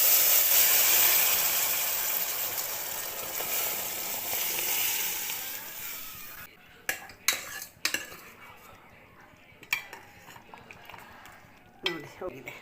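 Hot oil tempering of asafoetida, garlic, onion and dried red chillies sizzles loudly and steadily for about six seconds, then drops to quieter stirring with sharp spoon and pan clinks, for a leafy greens dal.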